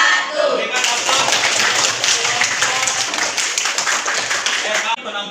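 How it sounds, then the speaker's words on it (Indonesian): A classroom of ninth-grade students at a junior high school applauds after group presentations. The clapping is dense and continuous for about four seconds and then tapers off, and voices can be heard among it. "Berikan aplaus."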